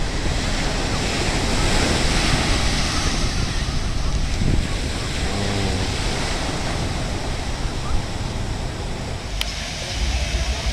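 Ocean surf washing ashore at Venice Beach, a steady broadband roar of breaking waves with wind buffeting the microphone, continuous and fairly loud with no talk.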